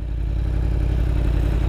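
A 2016 Yamaha R1 motorcycle engine runs at a steady, throaty idle, close and loud with an even low pulsing drone for under two seconds.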